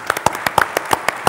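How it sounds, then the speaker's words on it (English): Sparse, distinct hand claps from a small audience applauding a panel speaker, about a dozen separate claps in quick irregular rhythm, close and fairly loud. "can we give a round of applause to Peter?"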